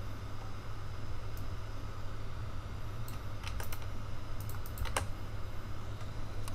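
Typing on a computer keyboard while a contact form is written in Google Forms: quiet, quick key clicks in short uneven bursts over a steady background hiss, with no talking.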